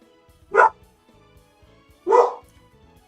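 A dog gives two sharp, separate barks about a second and a half apart, close and fairly loud against near silence.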